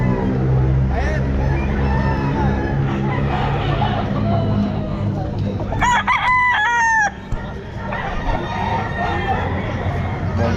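A Sweater gamefowl rooster crows loudly at a busy pet market, with one clear cock-a-doodle-doo rising over steady crowd noise, clucking and nearby chatter.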